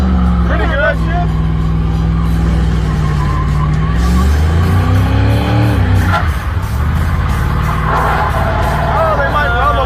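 An old beater car spins its wheels in a burnout, engine revving hard with rising and falling pitch over a steady roar, close and loud, while people talk and cheer nearby.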